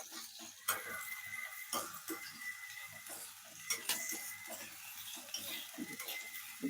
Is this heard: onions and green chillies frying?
yes